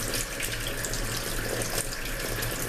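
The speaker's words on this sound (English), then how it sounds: "make sure you have some cool water running" Cool water running steadily from a kitchen tap into a sink while raw chicken is prepared for a curry peanut butter dish, a continuous close hiss and splash with no talking.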